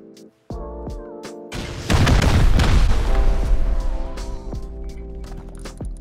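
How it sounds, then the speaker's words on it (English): Rockets blast into a base during a raid in the video game Rust, a heavy booming explosion rolling out over a steady game drone, loud and close, with a lighter thud following. "Just gonna have to rocket it out."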